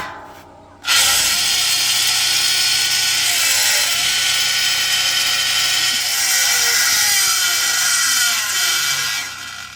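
An electric log splitter, dented from a fall, runs steadily on generator power with a metal cooling fan clattering against its housing inside, giving a continuous loud ratcheting rattle that starts abruptly after a brief pause.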